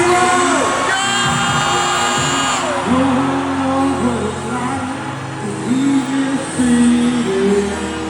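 A stadium crowd of about 70,000 at a concert roars and whoops loudly and continuously as a guest performer is brought on stage, with music and amplified sound beneath the cheering.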